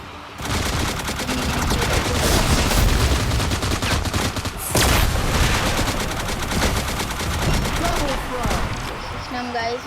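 Continuous, dense automatic gunfire rattles through a shooting video game, loud and near with little letup, mixed with other game effects and no speech on top.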